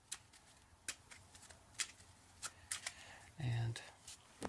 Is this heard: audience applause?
no